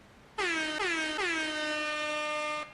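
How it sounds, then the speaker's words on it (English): A loud air horn blasts in three short bursts, the last one held long, harsh and brassy with no voices. "air horn"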